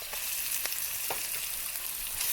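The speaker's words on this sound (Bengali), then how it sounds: "আদা রসুন পেস্টটাকে পুরো পেঁয়াজ রসুনের সাথে ভেজে নেবেছি" Ginger-garlic paste frying with onion and garlic in a pan, a steady close hiss of sizzling oil with a few brief stirring scrapes, no talk.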